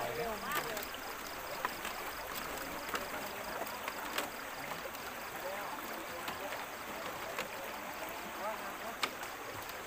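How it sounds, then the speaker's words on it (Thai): Strong river current rushing at a night temple festival at Wat Tha Kok Kae in Lom Sak, Phetchabun, heard as a constant churning wash and gurgle with scattered sharper splashes, someone talking over it. "น้ำไหลแรงมากเลยค่ะ"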